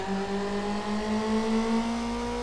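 A car engine in the Need For Speed Underground racing game holds a steady, rising drone as it revs and pulls under acceleration, loud and continuous with no talk over it.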